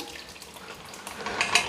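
Cooked toor dal and its water pour into a pot of sambar, a brief liquid splash and gush that grows slightly louder as it lands.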